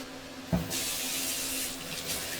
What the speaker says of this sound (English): What I'm going to do is I'm going to give these a bit of a wash.